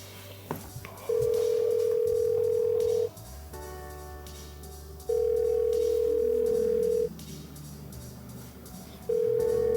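Telephone ringback tone on an unanswered call: long steady beeps repeat at even intervals, each lasting about two seconds with gaps between, loud and close, with no voices.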